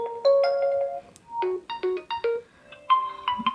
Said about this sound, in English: this is the ringtone in this device